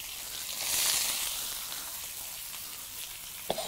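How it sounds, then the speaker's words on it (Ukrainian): Onion tipped into hot oil in a pan over a campfire for autumn lecho, a quick swelling sizzle that settles into a steady fainter frying hiss, ending with a small clink, no talking. "І одразу перегружаємо сюди цибулю."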